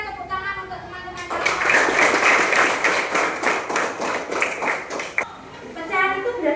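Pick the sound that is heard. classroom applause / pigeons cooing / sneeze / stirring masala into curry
classroom applause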